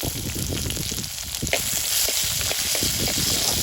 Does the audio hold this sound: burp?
no